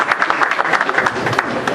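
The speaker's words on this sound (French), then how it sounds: "je vous demande d'applaudir monsieur Abouaka Koulibaly" An audience applauds at a lunch debate, a dense, continuous patter of many hands clapping at once, moderately loud and slightly reverberant, brief.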